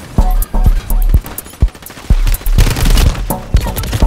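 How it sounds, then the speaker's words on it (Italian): Loud bursts of gunfire aimed at the player in Call of Duty, with rapid volleys and sharp single shots cutting in and out close by, with brief gaps between strings of shots and no talking. "Mi sparano abbondantemente"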